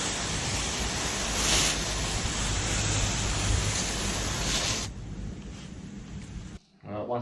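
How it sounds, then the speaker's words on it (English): Garden hose spraying water onto Panasonic split-system air conditioner filters outdoors, a loud steady hiss of water for about five seconds, then quieter before a brief gap and a short final burst. "When hosing the filters, make sure to go from the underside, not the top side"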